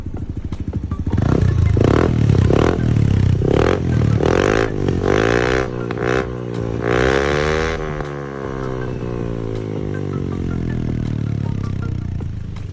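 A motorcycle fitted with a JVT v3 exhaust pipe starts and revs, a loud rumbling burble with several sharp throttle blips, then settles into a steady, deep idle.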